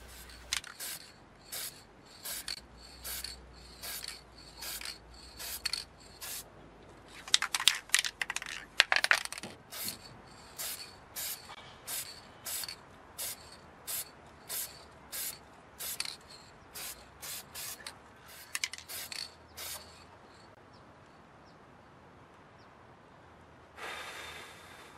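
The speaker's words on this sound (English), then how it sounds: "With flicks of the wrist, I apply many light coats of paint" Short hissing bursts from a paint spray gun laying on a white ground coat for a car paint repair, repeated rhythmically in quick light passes with brief gaps between, followed by one longer spray at the end; no voices.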